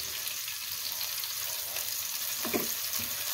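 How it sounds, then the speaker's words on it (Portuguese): Garlic seasoning sautés in a pan for a leek and celery quiche, a continuous soft sizzle close by with a brief clattering stir partway through. "E refogar."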